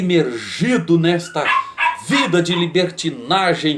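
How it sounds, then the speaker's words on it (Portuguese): A small dog barks outside in short yips beneath a man preaching loudly and continuously in Portuguese. "cachorrinho latindo, meu cachorrinho lá fora"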